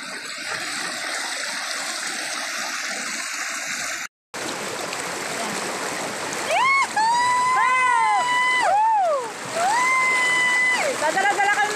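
A river stream flows with a constant broadband rush throughout, while singing voices and other sounds rise over it in the second half.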